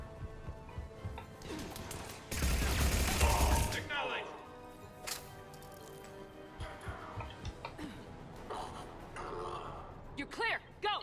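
Weapon fire in Mass Effect Legendary Edition, a burst of rapid shots in a dense cluster followed by scattered single sharp reports, with game chatter and other effects around it.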